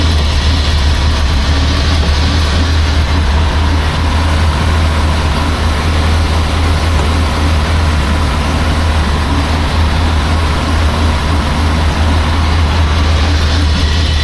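A 1976 BMW 2002 engine runs steadily at its first start after restoration, with a loud, constant low rumble and an even mechanical hum and no talking.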